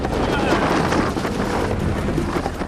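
An outboard engine runs at a steady, loud drone on a boat fishing for Nile perch, mixed with heavy wind buffeting and faint talk in the background.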